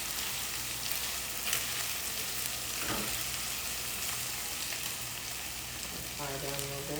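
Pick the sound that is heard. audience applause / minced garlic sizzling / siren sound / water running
minced garlic sizzling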